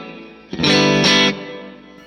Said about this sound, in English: This is a killer reverb.